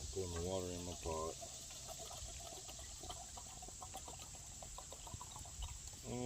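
Water poured into a pot beside a homemade 5 oz wood-burner stove: a quiet, continuous trickling and splashing that lasts several seconds, with a brief vocal-like sound at the start.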